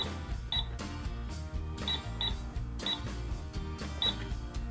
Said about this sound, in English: we're going to be playing with the Mickey Mouse Clubhouse cash register